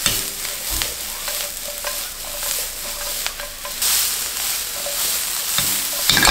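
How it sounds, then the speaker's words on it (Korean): Sliced mushrooms frying in melting butter in a pan for a gorgonzola mushroom cream pasta, sizzling loudly and steadily up close while a utensil stirs and scrapes them around. "버터를 녹이면서 버섯도 풋내를 날려준다는 느낌으로 구워주시면 됩니다"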